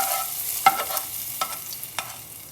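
Fried red garlic stirred into winter vegetables cooked with mung dal in a pan, a soft sizzling backdrop broken by three or four sharp spoon scrapes and clinks, close and moderately loud.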